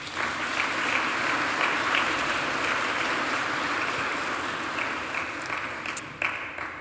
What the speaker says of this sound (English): please join me in thanking them. They're sitting here to the right of me and really deserve a round of applause.